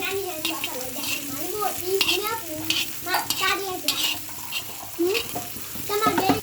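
Sambharo relish sizzles in oil in a pan. A steady crackling fry is broken by scraping and stirring strokes, close and continuous.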